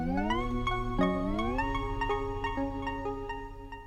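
Granular texture from a Sonicware Liven Texture Lab is shifted up a fifth, rising in pitch through a smooth glide, with rapid pulsing grains and steady close volume.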